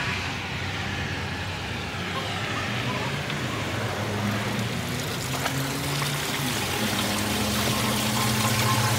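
Water streams through furrows past bags of granite sludge, a steady broadband rush with a low hum running beneath it the whole time.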